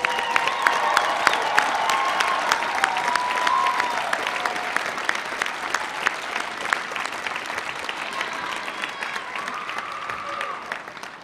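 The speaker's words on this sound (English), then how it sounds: "Let's applaud all of our first-generation students." A commencement crowd applauds first-generation college graduates at a fall university ceremony, with sustained, dense clapping that holds steady for the whole stretch and tapers only slightly toward the end.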